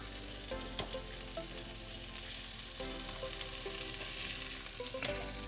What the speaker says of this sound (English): let's flip the burgers